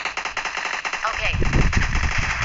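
Rapid bursts of machine gun fire in a team deathmatch video game, loud and close, rattling in quick repeated shots with a brief shift partway through as another burst of gunfire joins.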